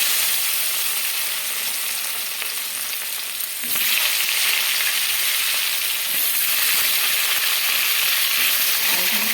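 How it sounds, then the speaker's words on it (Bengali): Potatoes frying in oil already used for frying sea fish give a loud, steady sizzle, briefly dipping then surging again as they are stirred, with faint scraping of a utensil. "মাছ ভাজা তেলের মধ্যে আলুটা ভেজে নেব।"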